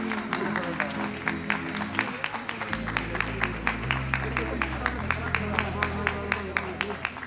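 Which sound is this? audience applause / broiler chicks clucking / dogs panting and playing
audience applause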